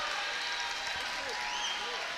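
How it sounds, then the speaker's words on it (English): A crowd at a girls' high school basketball district championship game applauds as two players leave the court. The clapping sounds soft and distant, with a little noise from the gym around it. "a big round of applause for Milena Havens and Hillary Baker as they take a seat"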